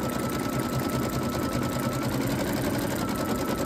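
A machine embroidery unit stitches a free-standing lace stocking ornament, a loud steady mechanical chatter of rapid needle strokes running evenly throughout with no pauses.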